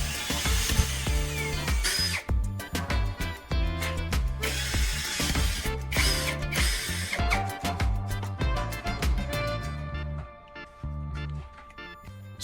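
A power drill bores bolt holes through a PVC plate fitted to a wheel bracket, giving a continuous loud whirring grind with ratcheting bursts, close up, tapering off near the end with no talking.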